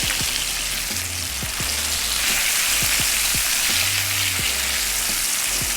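A sturgeon fillet frying crispy in a pan gives off a steady, dense sizzle with crackle and spatter, close and continuous, with faint low clanks and thumps under the hiss.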